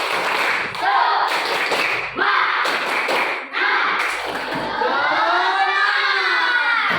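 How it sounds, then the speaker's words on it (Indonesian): A classroom group performs a rhythmic clapping chant with sharp claps in short bursts, voices chanting along over a steady roomful of sound, fairly loud and close. "Tepuk semangat."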